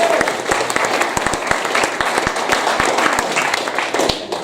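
Applause rises from a party conference audience, many hands clapping in a fairly steady patter with a few sharper, closer claps standing out.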